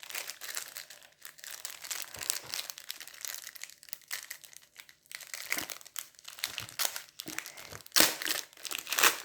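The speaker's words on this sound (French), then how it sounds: "J'adore entendre le bruit de déballage" Packaging crinkles and rustles up close during an unboxing of Temu craft items, with irregular bursts of plastic crumpling and tearing, fairly soft overall with a few sharper crunches.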